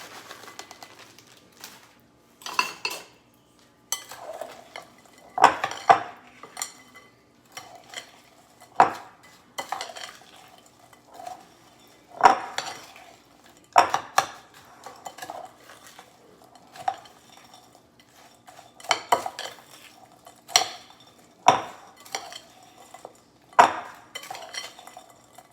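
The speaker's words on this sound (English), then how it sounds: "I'm just going to mix it all up." Ingredients for a lemon crunch cake topping are mixed with melted butter in a bowl, a utensil scraping and clacking against the bowl in irregular close strokes with quiet gaps between them.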